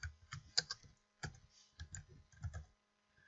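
Computer keyboard keys tapped close up while entering text in the Canva design tool, coming in short uneven bursts of crisp clicks separated by brief pauses, with no talking.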